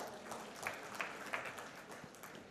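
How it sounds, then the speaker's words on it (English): An audience at a staged session applauds to welcome the speakers, a faint, distant, continuous patter of clapping with no voices heard over it. "So please give them a big round of applause."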